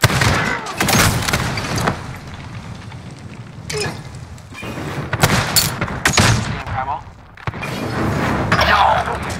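Bursts of gunfire from a Call of Duty: Modern Warfare match, with repeated shots and heavy booms coming in clusters, loud and close, and short gaps of quieter background between volleys.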